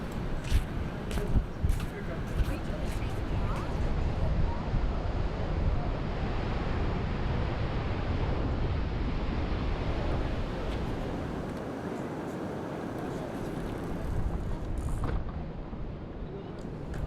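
Ocean surf rolling in at Manhattan Beach Pier, a steady, continuous wash of breaking waves heard close and fairly loud, with wind buffeting the microphone and a few sharp knocks near the start.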